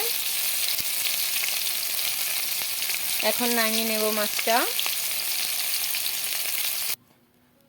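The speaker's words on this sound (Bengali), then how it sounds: "মাছগুলো উল্টে নিয়েছি মাছটা প্রায় ভাজা হয়ে গেছে" Fish frying in a pan, a steady loud sizzle and crackle of hot oil that runs throughout. A voice speaks briefly midway before the sound cuts off abruptly.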